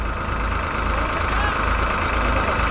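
A 55 hp tractor engine idles steadily at close range, a continuous low rumble with a dense mechanical drone and no change in pace throughout.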